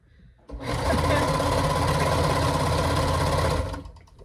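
A cover stitch machine sews in one continuous burst of about three seconds, a steady loud mechanical whir that starts abruptly, holds even, then winds down, heard up close with no talk over it.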